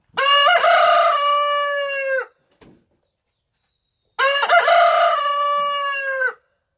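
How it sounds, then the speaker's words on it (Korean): A rooster crows twice on a farm, each loud, close crow lasting about two seconds with a rising then sustained harmonic call, separated by a short quiet gap, with no talk. "어, 저 지금 오른쪽에 보이는 제 장닭도 와가지고 한 번씩 울어주고요."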